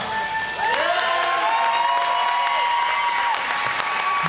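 Sustained applause and cheering fill the stands at a roller derby game, a steady wash of crowd noise with a whistle-like tone sliding through it and scattered sharp claps.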